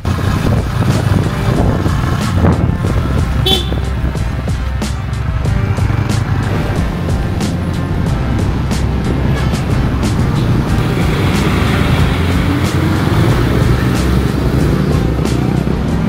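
Continuous scooter engine and road noise with wind buffeting while riding at night through busy traffic on Makati Avenue in Manila, vehicles rumbling nearby and voices faintly mixed in.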